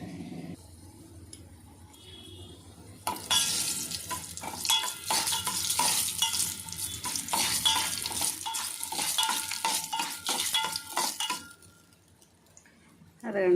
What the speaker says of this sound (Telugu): తాలింపుకి ఎండుమిరకాయ వేగిపోతున్నాయి